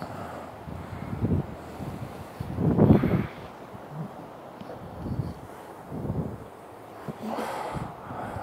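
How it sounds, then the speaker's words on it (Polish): Wind gusting outdoors, buffeting the microphone in uneven rumbling bursts that rise and fall over several seconds. "Trochę wieje dzisiaj."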